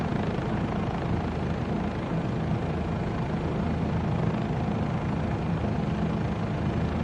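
A Bell 407 helicopter flies in Microsoft Flight Simulator 2024, its rotor and turbine making a dense, steady drone that stays constant and loud throughout, with no voices.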